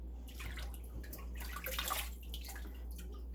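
Water drips and splashes from freshly blanched broccoli as it is lifted by hand and shaken off, a steady close wet patter with a brief heavier splash midway over a low background hum.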